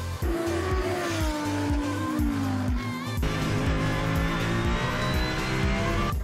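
Four-wheel buggy from the maker Ralis speeding around the Okayama International Circuit, its engine loud and close with rapid revving and repeated gear changes, rising and falling pitch, and tire noise throughout.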